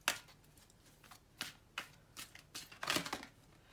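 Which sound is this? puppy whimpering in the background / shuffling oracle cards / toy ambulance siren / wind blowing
shuffling oracle cards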